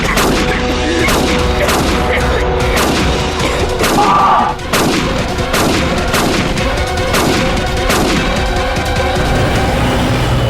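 Rapid bursts of loud gunshots ring out in quick succession, sharp cracks repeating irregularly throughout with heavy booming echo.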